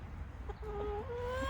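Hens in a mobile chicken tractor on a farm give a few soft, quiet clucks and a drawn-out murmuring call over constant outdoor background noise.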